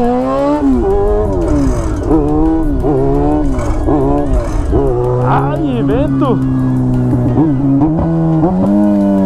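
A Yamaha XJ6 motorcycle engine revs hard and keeps surging through rising and falling pitch sweeps during a wheelie, loud and close, while someone shouts over it.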